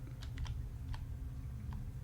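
Faint, scattered keystrokes on a computer keyboard, a few soft clicks tapping out irregularly over a low steady hum.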